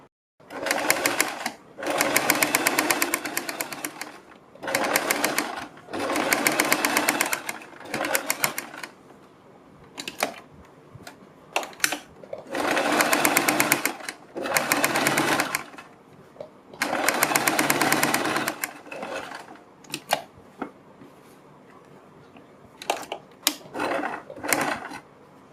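Sewing machine stitching cloth, running in several bursts of a few seconds each with brief pauses between them, steady whirring and close.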